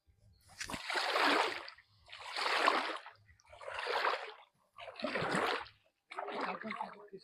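Fishing net hauled through a village pond, making five separate surging splashes about a second apart, each swelling and fading, close by with a faint voice underneath.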